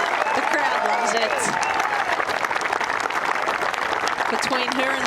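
A golf gallery applauds and cheers a finishing birdie putt at a tournament, with dense, sustained clapping throughout and a commentator speaking over it.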